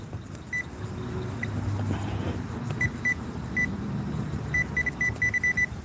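Short electronic beeps chirp repeatedly from a metal detector, some in quick bursts, over a low background rumble of distant traffic.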